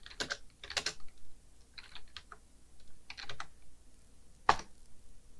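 Keys clatter on a computer keyboard as a Python command is typed, short clustered bursts of close, crisp taps with pauses between and one sharp final keystroke.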